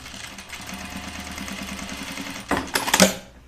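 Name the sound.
sewing machine stitching a shirt from the flannel side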